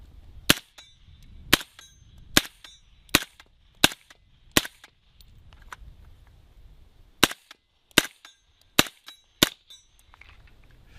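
CMMG MK57 5.7x28mm rifle firing subsonic rounds at a steel plate, about a dozen sharp suppressed reports in two quick strings, each followed by a bright metallic ring from the plate.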